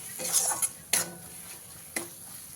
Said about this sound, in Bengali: এবারে মশলার আগে আমি এক থেকে দু মিনিট ভালো করে কষিয়ে নেব